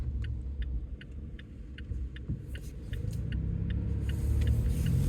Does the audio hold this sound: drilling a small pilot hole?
no